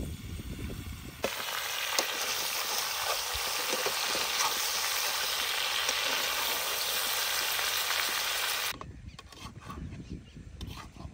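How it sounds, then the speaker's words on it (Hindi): Tomatoes frying with chicken in hot oil in a karahi give a loud, steady sizzle that starts abruptly, holds for about seven seconds, then cuts back to quieter background. "ऑयल निकालने के बाद चिकन के साथ कढ़ाई में डाल लेंगे टमाटर।"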